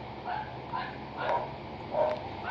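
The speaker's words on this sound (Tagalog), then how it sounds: "naingay yung mga aso namin sa labas ngayon" Dogs bark and yip outdoors in several separate bursts, moderately distant, over a low background hum.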